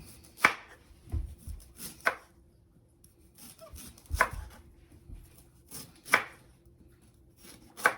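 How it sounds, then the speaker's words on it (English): A knife chops fresh ginger on a cutting board in clear, close, evenly spaced strokes, about five firm knocks over eight seconds with softer taps between them. "Cutting my ginger."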